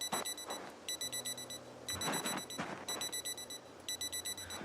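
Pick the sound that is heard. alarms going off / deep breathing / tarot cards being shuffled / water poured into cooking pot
alarms going off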